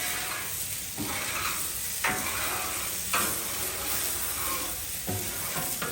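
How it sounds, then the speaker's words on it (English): A metal scraper pushes chicken across a Blackstone griddle over a constant oily sizzle, with several sharp scraping strokes spaced about a second apart, close and clear with no voices. "take our little scraper, kind of scrape up just a little bit here"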